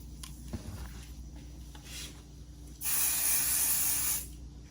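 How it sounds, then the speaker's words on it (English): Basting spray from an aerosol can hissing onto embroidery stabilizer in one steady burst of about a second and a half, close and fairly loud, with quieter handling noise before it. "I'm going to spray it with some of my basting spray."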